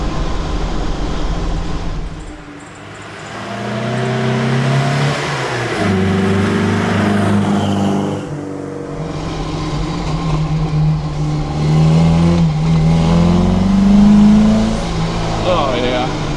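A loud Opel Manta A engine with twin Weber DCOE 40 carburetors revs repeatedly with a deep, rough exhaust roar, rising and falling close by, with people talking over it.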